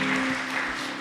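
Church congregation applause at a Sunday worship service, a dense, steady wash of clapping from many people throughout, with no pauses.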